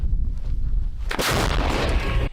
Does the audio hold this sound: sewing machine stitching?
no